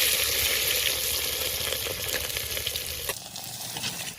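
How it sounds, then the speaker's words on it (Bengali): Onions tipped into hot oil with whole spices for a village-style chicken skin dish, giving a loud, steady sizzle and crackle that continues throughout, with some stirring. "এবার পেঁয়াজগুলোকে তেলের মধ্যে দিয়ে দেবো।"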